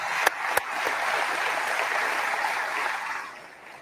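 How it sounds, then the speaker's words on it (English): A sold-out crowd applauds at a Macon, Georgia state of the community address, a broad steady wash of clapping with a couple of sharp close claps near the start, fading toward the end. "So this sold out crowd, give yourself a round of applause"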